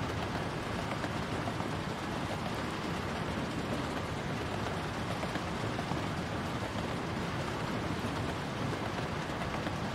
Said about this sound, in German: Natürlich, wie immer, regnet es, wenn man hier mal eine schöne Mitfahrt machen will.